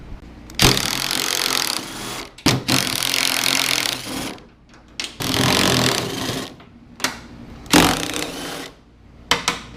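A power tool removes the half-inch grille, core support and fender bolts on a 1964 Chevy II. It gives several loud, close bursts of buzzing rattle lasting one to two seconds, separated by short pauses and sharp clicks.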